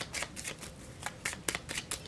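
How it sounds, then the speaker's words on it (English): Quiet riffling of playing cards being shuffled, a series of soft crisp bursts in quick succession, close up with no talking. "Think about yourself while we shuffle."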